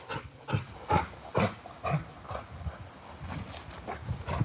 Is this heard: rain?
no